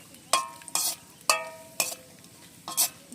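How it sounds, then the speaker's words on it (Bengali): Cashews stirred in oil in a wok for fried rice, five or six distinct scraping stir strokes over a quiet, gentle sizzle, close and fairly loud. "আমি কাজুটা দিয়ে দিচ্ছি। কাজুটা একটু নাড়াচাড়া করে নেব"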